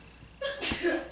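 A single sharp sneeze bursts out close by after a brief intake of breath, loud and abrupt.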